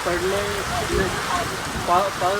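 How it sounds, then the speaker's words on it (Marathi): The season's first rain falls steadily in a rural village, a dense close hiss under voices that talk over it throughout. "पाऊस बघा तुम्ही एकदा."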